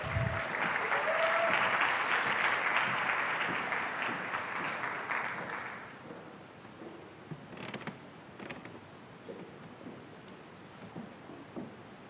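An audience at a university panel on sexual harassment in medical practice applauds, a steady round of clapping for about six seconds that fades out, leaving a quiet room with faint creaks and shuffles.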